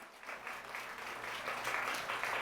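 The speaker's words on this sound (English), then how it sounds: "Please give them a round of applause." An audience at a live panel event in New York applauds the panelists, with dense, continuous clapping that swells slightly and holds steady throughout.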